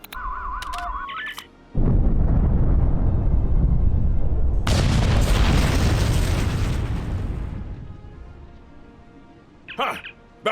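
A loud, sustained explosion roar in Star Trek Online breaks in after a few short electronic tones, holds heavily for several seconds, then fades out into a brief chirp of game effects.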